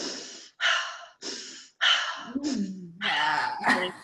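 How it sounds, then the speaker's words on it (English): Four quick, forceful inhales in a primal breathing exercise, each a short breathy rush separated by brief gaps, then a longer voiced exhale and further heavy breaths, close and clear. "I love the practice of primal breathing, of doing like the fast inhale"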